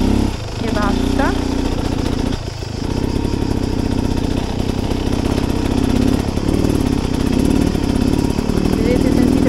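A 2024 Beta Xtrainer motorcycle engine idles at low revs while climbing a slope, a steady close thrumming drone that runs throughout under someone talking.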